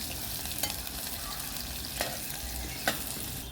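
Onions fry in hot oil for coconut rice, a dense steady sizzle and crackle close up, broken by a few light stirring clinks, with no voices.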